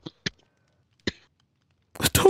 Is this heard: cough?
yes